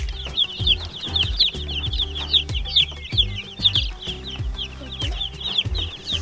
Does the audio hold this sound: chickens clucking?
yes